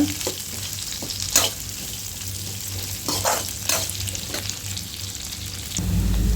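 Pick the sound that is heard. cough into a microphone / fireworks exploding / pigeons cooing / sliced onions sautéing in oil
sliced onions sautéing in oil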